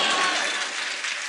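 Sustained applause from an audience at a Hindi-Urdu poetry mushaira, a dense wash of clapping that stays loud and steady throughout.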